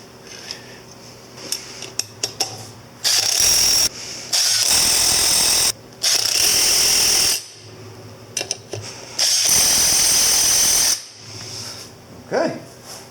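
Bursts of a power tool, likely a ratchet, tightening nuts back on a Yamaha Virago 250 XV250 motorcycle during rear sprocket and chain install; four loud spins of a second or two each, separated by small clinks and handling noise.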